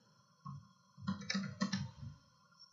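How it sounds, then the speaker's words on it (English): Matrix values being typed on a computer keyboard: a single key tap, then a quick run of clustered clicks and taps, close and quiet, with no talking. "Let's start typing them out"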